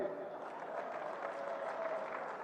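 Crowd applause at a large outdoor political rally on a Ram Lila ground in Bareilly: a faint, distant wash of clapping under a voice talking, steady for a couple of seconds.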